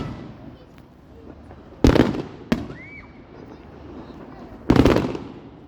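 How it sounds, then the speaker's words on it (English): Fireworks go off on Bonfire Night in the UK with three loud, sharp bangs a few seconds apart and a rising whistle between them. A low rumble of distant bursts continues underneath. "Remember when I was scared of fireworks?"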